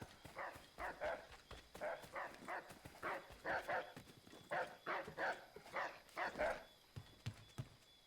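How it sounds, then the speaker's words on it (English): A dog in Assassin's Creed 3 Remastered barks repeatedly in short, evenly spaced bursts of two or three, fairly loud against a quiet game background with no talking. "Oh fuck, there's a dog also."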